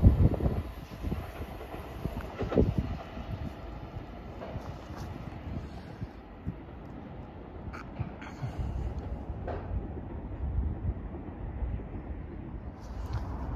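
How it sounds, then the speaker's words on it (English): A ScotRail passenger service from Dundee to Edinburgh Waverley rolls through Dalmeny, a continuous low rumble with clacking wheels and wind buffeting the microphone, steady for the whole stretch without voices. "Passing through now is a ScotRail service from Dundee to Edinburgh Waverley."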